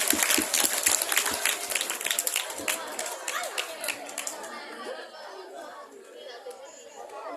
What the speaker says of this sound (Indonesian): Beri tepuk tangan yang meriah kepada tim Hadroh SMA Negeri 1 Simpang Kritik.